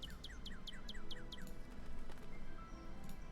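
Repeated bird chirps from the video game Ghost Dogs of Moon Lake, about six quick, evenly spaced tweets in a row over faint ambient game background, then a quieter trailing call.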